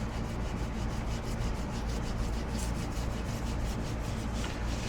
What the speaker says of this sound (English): Use a scouring pad.